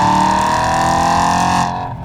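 BMW E92 M3 accelerating, a loud close engine roar holding a strong steady tone under load before easing off toward the end.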